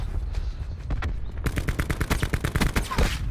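Rapid gunfire in a stormy battle-royale style video game, a dense burst of repeated shots with loud sharp reports, fairly close and continuous over about two seconds.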